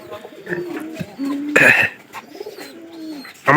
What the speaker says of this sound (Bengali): তারপরে আবার ডাকে এই যে 2 নম্বর খড়েরটা ভালো ডাক পারে।